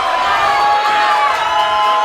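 A crowd at a Lucha Extrema professional wrestling match cheers and whoops loudly and steadily, a dense roar of many voices close around the ring with high shouts on top.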